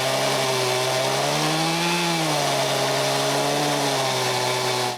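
A chainsaw mill cuts cherry logs into boards, its engine droning steadily and loud throughout, the pitch dipping briefly under load and then recovering.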